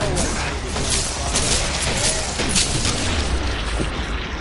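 Explosions and heavy booms from the Killing Floor co-op video game, a dense rumbling barrage with crackling bursts that stays loud throughout.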